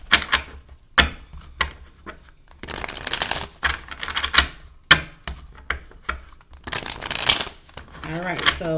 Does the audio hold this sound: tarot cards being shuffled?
yes